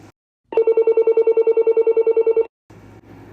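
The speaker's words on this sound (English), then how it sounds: "I absolutely love the ringtone of this phone. This is probably my favorite bass ringer that Uniden has ever done." A Uniden TRU348 cordless phone plays its bass ringtone: a loud, fast-pulsing electronic ring lasting about two seconds, followed by quiet background noise.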